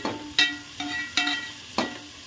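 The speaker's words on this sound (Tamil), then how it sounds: "கல் உப்பு போட்டு ஒரு கிண்டு கிண்டிட்டு" Onions sauté with rock salt in a pan as a spoon stirs them in about five evenly spaced, sharp strokes against the metal over a soft, continuous sizzle.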